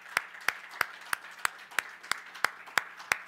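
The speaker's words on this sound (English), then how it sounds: "give the Lord a clap" Clapping in a church service, about ten sharp, evenly spaced claps in a steady rhythm, moderately close, with no talk over them.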